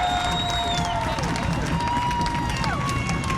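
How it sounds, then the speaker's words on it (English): A crowd at a high school football game between Ludlowe and Fairfield Prep roars and cheers steadily, a dense wall of distant voices and whistles with a commentator talking over it throughout. "And this crowd is just electric."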